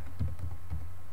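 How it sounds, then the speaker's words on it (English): Several light keystrokes on a computer keyboard while typing into a notepad application, a few soft taps over about a second, quiet and close against a low steady hum. "first let's type something"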